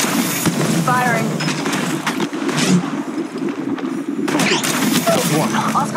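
Rapid bursts of gunfire in the battle royale video game Apex Legends, loud and close, with repeated cracks amid game effects and a voice talking over the shooting.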